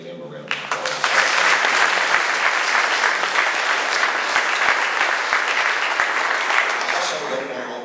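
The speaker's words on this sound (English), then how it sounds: "I think we ought to give him a round of applause" An audience in a school setting bursts into sustained clapping that swells quickly and holds steady, a dense wash of many hands with no talk over it.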